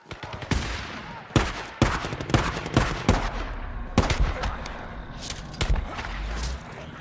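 Gunfire in the zombie-survival video game Days Gone rings out as sharp, loud shots in irregular bursts, some close together like rapid fire, with a low rumble beneath.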